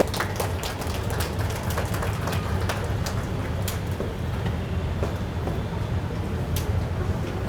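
Loud, dense applause from a large audience at a police passing-out parade ceremony in Jharkhand, a steady wash of many hands clapping that runs unbroken outdoors.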